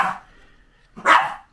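A dog in an Italian newsagent's shop gives a short bark and then a louder single bark after a pause, close by and alone.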